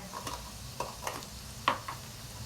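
Garlic sizzles in hot oil in a pan as tempering for restaurant-style dal fry, a steady close frying hiss with a few sharp spatters and stirring clinks, and no talking over it.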